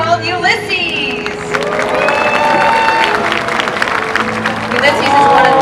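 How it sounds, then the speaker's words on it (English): An audience at the SeaWorld San Diego Orca Encounter killer whale show applauds and cheers steadily, with children's shouts and an amplified voice carrying over the crowd. "Everyone give a big round of applause to 46-year-old Ulises!"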